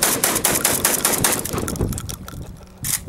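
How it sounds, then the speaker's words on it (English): Rapid bursts of gunfire at an outdoor gun range, sharp repeated reports in quick succession for most of the stretch, then a brief lull before another burst, loud and fairly close. "That last shot, it looked like you got it for sure."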